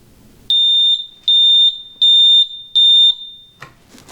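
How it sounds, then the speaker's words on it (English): Helios tank level alarm horn gives four loud, sharp electronic beeps in an even rhythm, each about half a second long, followed by a longer tone and then quiet. "our light and horn will turn yellow and we'll hear an audible alarm"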